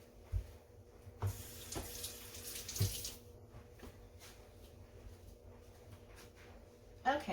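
Kitchen faucet water runs steadily while hands are rinsed during chicken and rice cooking, a soft continuous hiss broken by a few knocks and splashes against the sink, fairly quiet and close, with no talking.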